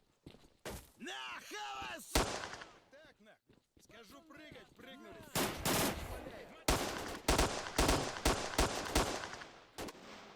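A weapon fires from the hip in S.T.A.L.K.E.R. Shadow of Chernobyl: loud shots crack in uneven bursts, growing denser in the second half, with a voice talking in between earlier on.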